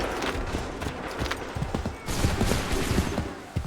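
Musket volleys crackle in the Assassin's Creed 3 Remastered game, dense ragged bursts of many shots at once over a noisy battlefield rumble, with nothing spoken.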